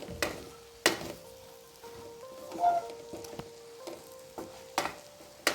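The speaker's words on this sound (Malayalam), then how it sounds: "ഇനി ഇതെല്ലാം കൂടി നന്നായി ഒന്ന് മിക്സാക്കി എടുക്കുക" Bread, egg and masala being stirred in a pan, with quiet spaced scrapes and taps of a spoon against the pan over a faint low sizzle, close and sparse.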